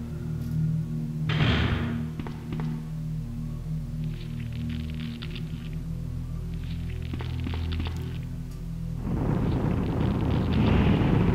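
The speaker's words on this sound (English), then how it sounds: "All I really have to do to kill those things is just tap them, though, with the flamethrower." In Resident Evil 2, a flamethrower burns plant enemies with roaring whooshes of flame, a blast early on and a longer surge at the end over a low, rumbling in-game drone.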